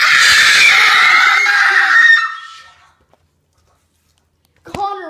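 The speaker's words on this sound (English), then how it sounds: "Well, you told me to scream." Loud, shrill human scream lasting about two seconds and trailing off into silence, followed near the end by the brief start of a voice.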